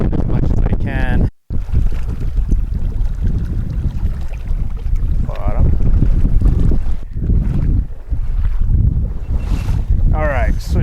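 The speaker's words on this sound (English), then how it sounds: "I just try to battle this wind as much as I can." Strong wind roars across the microphone during fly fishing, a constant loud buffeting with brief gaps and faint voice fragments underneath.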